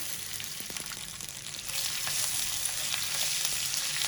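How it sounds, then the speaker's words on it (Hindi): Halved green chillies fry in hot oil with kalonji and curry leaves for aloo bhari mirch, giving a steady, close sizzle that grows slightly louder and fuller partway through, with no voices. "मिर्चों को हम 3 मिनट तक फ्राई करेंगे, हल्की आंच से, तेज आंच में करेंगे"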